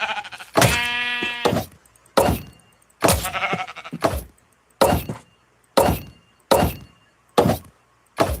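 Minecraft sheep bleating in a video game: a long wavering bleat followed by a string of short, sharp bleats and hit thunks repeating at regular intervals, loud and close with no talk.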